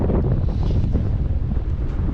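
Strong wind buffets the microphone in a steady, loud roar during a stormy sea bass fishing outing on the water, with no voices.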